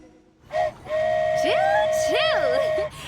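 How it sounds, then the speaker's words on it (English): In a video game, a flying train departs with a bright, rising whistle tone followed by swooping, warbling musical sweeps, loud and close, with a voice speaking over part of it. "Choo-choo! Aerial Express moving out."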